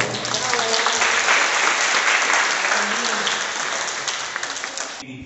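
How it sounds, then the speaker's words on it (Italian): Dense applause from an audience at a school ceremony honouring a local figure in Magenta, steady and loud, then thinning out toward the end before cutting off. "Un applauso."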